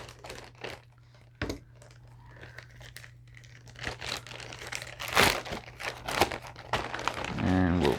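Crinkling and tearing as the sealed packaging of an Eflite V900 box is cut open, with scattered sharp rustles and crunches building in loudness toward the end, close by, and a low steady hum underneath.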